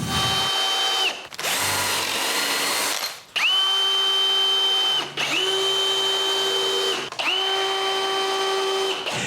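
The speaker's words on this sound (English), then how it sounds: "I screw this to the center of the table." A power drill drives screws into a cedar patio table in four sustained whining runs, each ramping up and settling to a steady pitch, with a short burst of harsher noise between the first two and brief pauses between the rest.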